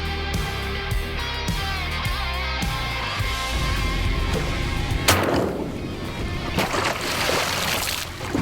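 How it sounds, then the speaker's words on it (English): Shotgun fire during an eider sea duck hunt off the Massachusetts coast: music-like tones give way to a sharp, close blast, then a second report moments later over rough, splashing water noise. "Bang, bang, reload, and bang, bang again."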